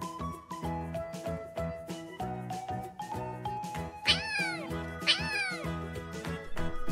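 Cats meow in two clear, rising-falling calls over a busy background of music, with no talk.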